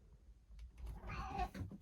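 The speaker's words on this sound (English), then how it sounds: "That's my cat. He's playing with a toy." A pet cat meows while playing with a toy indoors, a short soft call rising out of low room noise, close to the microphone and alone without talk.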